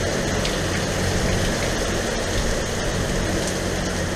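Heavy tropical rain pours down on a sailing boat at sea near Nevis, a dense, steady roar of drops drumming on deck and water that holds loud and unbroken throughout.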